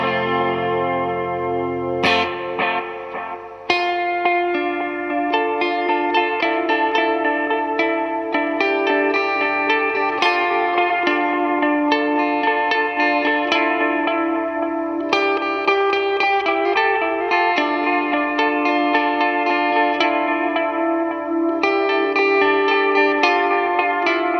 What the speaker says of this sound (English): Let's introduce some reverb.